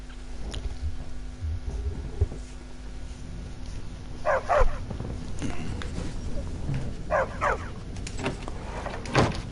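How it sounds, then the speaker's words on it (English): A dog companion in an Elder Scrolls game, following closely, gives a few short barks and whimpers amid busy in-game ambience, with clusters of brief yelps around the middle and end. "Bloody dog's still tailing me."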